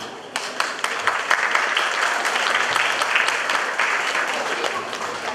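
Guests at a school studniówka ball in Kamienna Góra, Poland, break into applause: a few sharp early claps swell into a full, sustained round of clapping from a large room.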